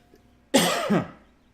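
A single harsh cough, close and loud, bursting out of near silence and fading quickly.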